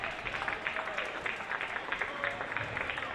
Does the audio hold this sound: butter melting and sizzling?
no